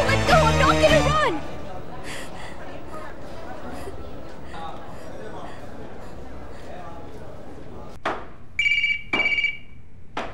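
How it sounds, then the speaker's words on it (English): A telephone rings in two short electronic bursts near the end, following a stretch of talk and shuffling in a tense indoor drama scene. "Pick up the phone."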